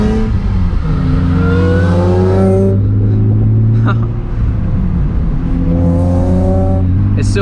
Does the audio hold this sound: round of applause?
no